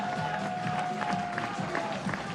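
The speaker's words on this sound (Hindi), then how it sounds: "आप लोगों की भरपूर तालियों में हमारी आज की मेहमान नादिया हुसैन साहबा के लिए बहुत सारी तालियां" A studio audience at a T20 World Cup cricket talk show claps to welcome guest Nadia Hussain, a steady, dense wash of applause at moderate volume with a faint tone running underneath.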